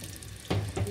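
Moroccan sfenj dough frying in oil, a soft bubbling sizzle that swells in two louder bursts as dough drops in, close and brief.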